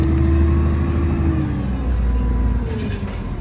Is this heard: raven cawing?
no